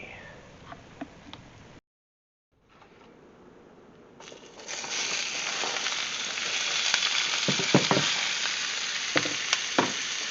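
Onions browning in a pan for Philly cheesesteak sizzle and crackle steadily. The frying grows louder and denser partway through, with a brief quiet gap near the start and occasional stirring scrapes.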